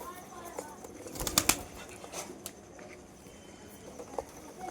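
A pigeon kept in a loft cage flaps its wings in one short, close, rapid burst, with quieter rustling and people talking nearby.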